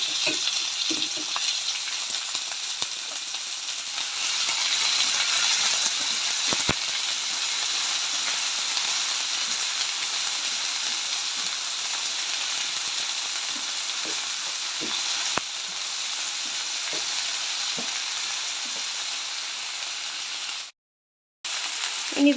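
Chopped ivy gourd (kovakka) sizzles and fries in a pan for a tamarind pickle, giving a steady close hiss with occasional stirring clicks and scrapes. The sizzle continues for about twenty seconds before a brief cut.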